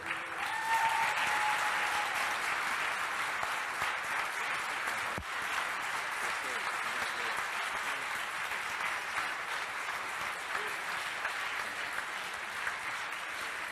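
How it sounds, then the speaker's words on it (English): An audience gives steady, sustained applause for the 2016 Freedom Award winner, Greg Easton, at an MLK award ceremony, the dense clapping holding at an even level throughout with no talk over it. "Please please please join me in giving a round of applause for this year's Freedom of Award winner, Mr. Greg Easton."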